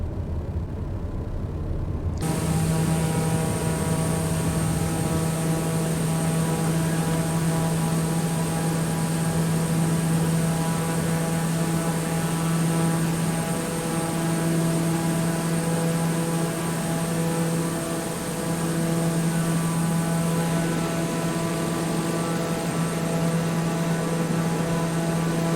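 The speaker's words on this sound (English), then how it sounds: "we'll do a rolling takeoff actually, because we've got plenty of runway with this TBM" A TBM turboprop plane in Microsoft Flight Simulator making a rolling takeoff from Innsbruck, a steady loud engine drone with a constant high whine and low hum that holds without a break.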